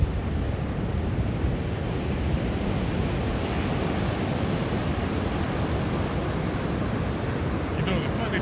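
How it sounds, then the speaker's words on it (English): Ocean waves wash steadily onto a South African beach, a constant broadband surf roar with no distinct breaks, moderately loud throughout. "We sit out here and just kind of relax and listen to the waves in a blanket."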